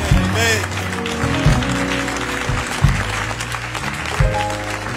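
A church congregation claps during a service, a steady patter of hands under a preacher's voice and music, with louder accents recurring.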